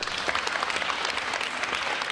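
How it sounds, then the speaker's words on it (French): Courtroom gathering applauding Gisèle Pellicot, a steady wash of many hands clapping at moderate volume, continuous and somewhat distant. "Des applaudissements pour Gisèle Pellicot"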